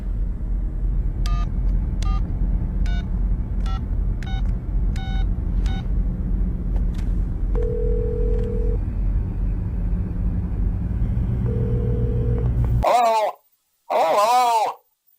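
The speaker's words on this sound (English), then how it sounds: "Dial your number." A telephone number is dialed as a quick series of about seven short DTMF tones over a low rumbling background. A couple of longer tones and some distant beeps follow, and then a voice speaks briefly.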